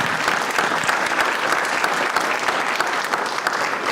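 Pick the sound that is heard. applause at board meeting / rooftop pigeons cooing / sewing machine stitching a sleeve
applause at board meeting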